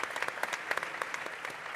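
A conference audience at a startup summit claps for a speaker, a sparse, fairly quiet spatter of individual handclaps in an indoor hall.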